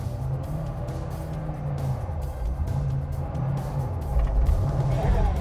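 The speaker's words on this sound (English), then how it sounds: "We'll just give it a little bit of revs." Classic German rally car in first gear, engine held at low revs with a steady rumble that builds toward the end as it prepares to pull away, with people talking over it.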